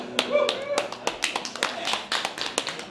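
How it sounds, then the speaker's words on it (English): Scattered applause from a small group as a couple sits down together at a family gathering, with uneven claps under ongoing chatter and voices. "we got an applause just to sit down"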